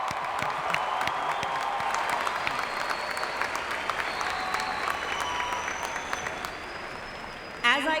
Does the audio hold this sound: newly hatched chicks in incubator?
no